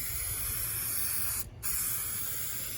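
A spray coating goes onto a truck headliner during sealing, a close steady hiss with one short break in the middle before the spray resumes.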